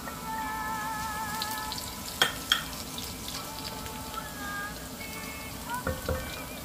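Ginger strips and garlic sautéing in a pan for a Filipino-style chicken curry, giving a steady close sizzle throughout with a few sharp clinks of stirring partway through.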